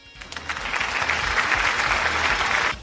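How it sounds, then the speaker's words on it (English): A round of applause: dense, steady clapping that swells quickly and holds for about three seconds, with no voices over it. "So, round of applause."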